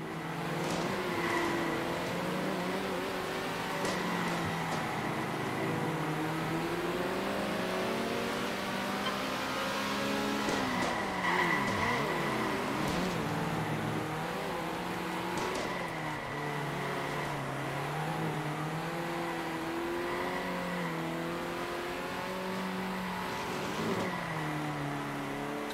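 Race cars in the video game Circuit Superstars drive continuously, several engines droning and revving together with shifting pitch, a steady loud stream of motor noise with occasional tire squeal and no talking.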